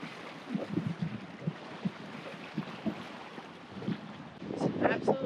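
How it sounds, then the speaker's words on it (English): Gentle water lapping the shore of Loch Garten in the Cairngorms, soft irregular splashes close by over steady wind noise on the microphone, growing a little louder toward the end. "The sound of the water lapping the shore."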